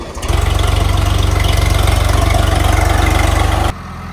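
A Swaraj 855 tractor engine thumps loudly and close in a rapid, steady diesel pulse, working on field pipeline work at night. It runs for a few seconds, then drops away abruptly.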